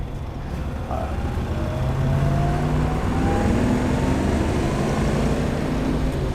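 A red 1960 Chevrolet Corvette runs at a steady, moderate level, its engine tone drifting slightly up and down as it cruises, heard from nearby with no one talking.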